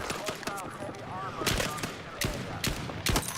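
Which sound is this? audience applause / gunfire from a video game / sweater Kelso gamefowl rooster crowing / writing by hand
gunfire from a video game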